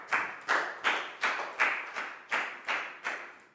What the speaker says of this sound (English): Big round of applause for Dan, please, guys.